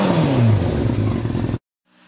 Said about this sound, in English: here's a couple revs